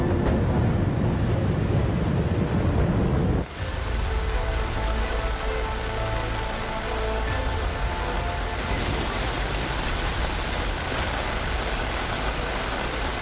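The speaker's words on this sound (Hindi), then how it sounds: "मुंबई में बर्बादी की बारिश।" Heavy monsoon rain pours down in Mumbai, a loud, dense, steady hiss that fills the whole clip without a break.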